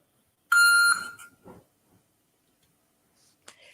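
A telephone line beeps as a police department transfers a call, first a loud sustained electronic tone, then a few fainter blips and a short click near the end, with no talking.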